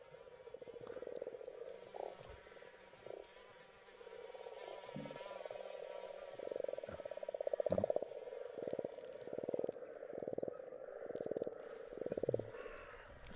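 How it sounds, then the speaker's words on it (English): A mosquito whines in a continuous thin drone, steady and fairly close, with rhythmic croaking pulses and faint background chatter layered over it. "This mosquito been going the whole time?"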